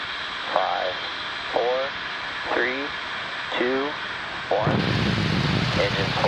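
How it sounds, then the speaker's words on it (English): A SpaceX Falcon 9 rocket lifts off from Cape Canaveral Space Force Station. A voice on a loudspeaker speaks first, then a sudden loud, dense roar bursts in and holds steady to the end. "And liftoff of Falcon 9."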